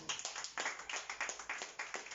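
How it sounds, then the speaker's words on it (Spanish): A small church congregation claps for the Lord in steady rhythmic unison, roughly three claps per second, moderately loud in a reverberant room. "Dale un aplauso al Señor"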